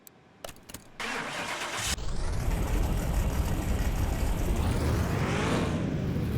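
In Car Mechanic Simulator 2021 a car on the dyno gives a few clicks, cranks and starts, then settles into a loud, steady engine run that swells slightly toward the end, with no talk.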